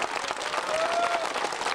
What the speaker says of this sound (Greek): Χειροκροτήστε αυτούς τους αστυνομικούς.